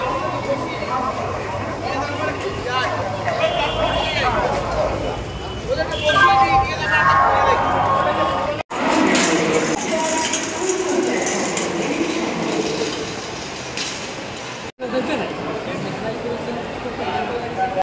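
Ambience on a platform at Howrah railway station: a continuous crowd murmur and general bustle, with a nearby voice talking over it throughout.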